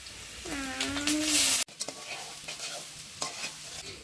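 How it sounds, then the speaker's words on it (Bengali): Chopped onions fry with garlic and bay leaf in a pan for a duck curry. A spatula stirs and scrapes through the steady sizzle, which runs close and even after a short high tonal squeal at the start. "পেঁয়াজগুলো এবার ভালো করে ভেজে নিব"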